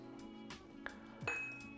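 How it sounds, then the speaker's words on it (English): A few light glassy clinks and taps as water is dripped into a whisky glass of bourbon, with a small splash near the end, close and quiet in an otherwise still room. "I'm going to add a bit of water to this."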